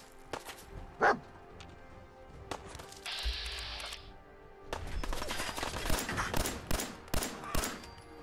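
A dog in the video game Fallout 4 gives a few sharp barks. Gunfire bursts break out around it, and a long rattling volley of shots follows.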